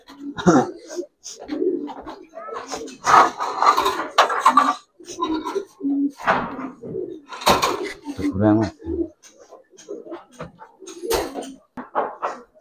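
Giribaz silver pigeons coo in repeated low phrases, close by, mixed in with steady nearby human talking and faint clattering throughout.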